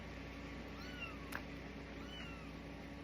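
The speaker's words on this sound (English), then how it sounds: "A kitten." A three-week-old kitten meows softly in a few short, rising calls over steady background noise, with no talk.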